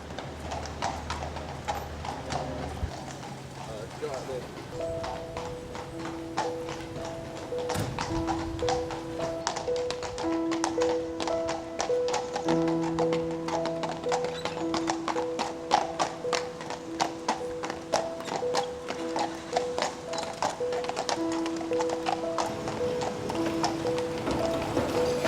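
Horses' hooves clip-clop steadily at walking pace in a funeral procession, with a sustained musical drone underneath throughout.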